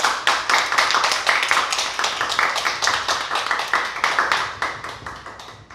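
An audience in a church or Christian fellowship hall claps loudly to welcome a pastor to the lectern, a dense, steady run of hand claps that holds for several seconds with no voices over it.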